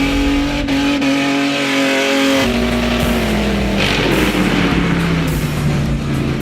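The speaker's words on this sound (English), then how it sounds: "Burnouts." A car does a loud, sustained burnout on a small square burnout pad at the Scrap Palace Morrinsville Burnouts. The engine roars with revs rising and falling over a broad rushing hiss of spinning, squealing tyres, close by throughout.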